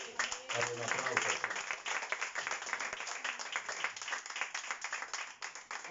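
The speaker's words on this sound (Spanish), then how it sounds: "Dale un aplauso." A church congregation claps and applauds through a Spanish-language sermon, steady dense clapping with voices mixed in throughout.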